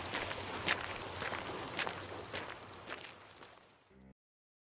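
Quick footsteps hurry along on a rainy evening, a regular run of close, light taps that fades toward the end before cutting to silence.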